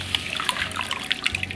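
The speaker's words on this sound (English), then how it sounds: "So I'm just gonna wring it out." Water from freshly dyed pastel blue hair drips and splatters close by as it is wrung out by hand, a steady wet trickling with small splashes and no talking.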